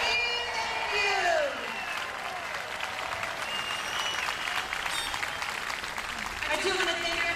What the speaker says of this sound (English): Let's give all of these people a huge round of applause.